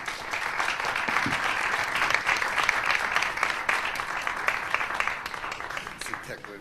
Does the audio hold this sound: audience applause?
yes